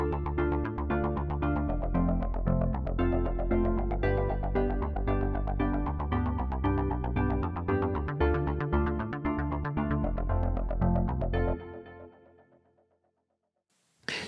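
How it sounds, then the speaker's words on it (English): Synth electric piano chords over a driving bass line in steady 16th notes, looping dense and loud for about eleven seconds before fading out, with a brief restart at the end. "I added in a bass line, and I just wanted it to be really driving, so I just made it 16th notes"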